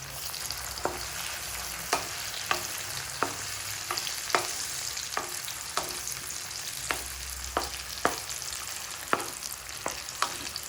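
Amla pickle mixture sizzles steadily in hot oil in a pan, with a string of sharp spoon scrapes and knocks landing about every half second as it is stirred, close and continuous without any talking.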